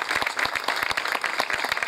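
At an inauguration event, an audience gives a short round of applause, a quick run of fairly close claps in a steady rhythm.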